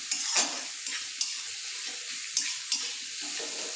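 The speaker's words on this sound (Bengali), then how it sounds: "পেঁয়াজটা একটু ভাজা ভাজা হয়ে যায়।" Chopped onion fries in a pan for a begun varta, a steady hiss of sizzling oil punctuated by several sharp scraping clicks of stirring, close and with no talking.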